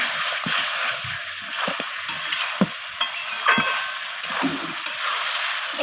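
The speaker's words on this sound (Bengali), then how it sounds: "তো লবণটা দিয়ে আবারও নাড়াচাড়া করে কষিয়ে নিচ্ছি।" Chicken with ginger, garlic and salt sizzles and sautés in a pan as a spoon stirs it, with steady frying hiss and scattered scraping strokes close by, no talk.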